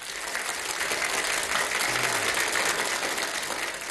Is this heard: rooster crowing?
no